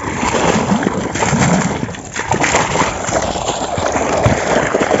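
Water released into a village field channel gushes and splashes continuously at close range, a loud steady rush with slight surging.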